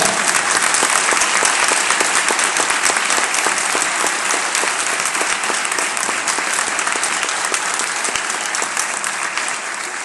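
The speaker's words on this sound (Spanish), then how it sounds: "Un fuerte aplauso para la ONG Centro Comunitario La Charqueada." Sustained, loud audience applause fills the room for a community NGO, Centro Comunitario La Charqueada, at a national award ceremony, a dense steady clapping that carries on without a break.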